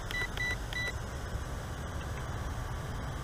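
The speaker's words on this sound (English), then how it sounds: "It does suck is that it beeps every time you try to do the gimbal." Three short high-pitched electronic beeps in quick succession from a WLToys Q696 drone's gimbal control, heard early over a steady rushing motor and wind noise that continues alone afterward.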